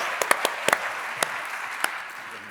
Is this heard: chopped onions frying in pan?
no